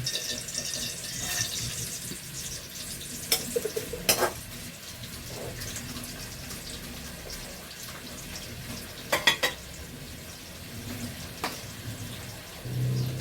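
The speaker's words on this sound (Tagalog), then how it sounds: "Kasi pa-fry ko itong boneless na dilis." A steady soft sizzle of boneless anchovies frying in oil, with occasional sharp clinks of a utensil against the pan.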